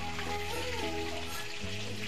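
Food fries in a pan in a home kitchen, a soft steady sizzle close by, with no talking.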